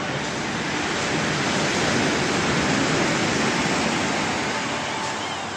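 Stormy sea waves surge and break on Yuzhny-2 beach in Adler, a loud, continuous roaring wash heard close by with no talking.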